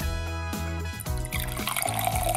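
Water is poured into a container that held pencils, with a rising gurgling fill and a trickle that climbs in pitch as the vessel fills, close and clear, with no speech.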